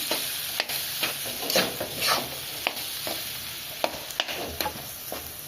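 Fish roe sizzles in a frying pan with salt and turmeric while a utensil stirs and scrapes it in frequent short strokes over a steady hiss.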